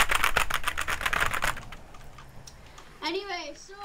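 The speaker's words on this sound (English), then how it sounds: "I can hear your keyboard going." Rapid clicking keystrokes clatter for about a second and a half, then a voice speaks.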